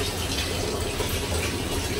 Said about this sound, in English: Right now, I'm just letting the water run behind me.